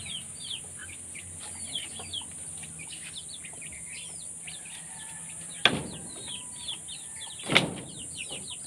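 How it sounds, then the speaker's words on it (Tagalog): Chicks and chickens cluck and peep around a farm chicken house, a busy scatter of small chirps and calls with two louder knocks or thumps partway through. "Nakahapon yung dalawang sisiw."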